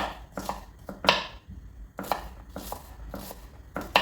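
Knife slicing onion on a board in quick, crisp chops in irregular bursts, close up and alone with no voices.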